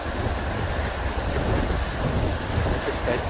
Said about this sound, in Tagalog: Tapos yung hangin eh.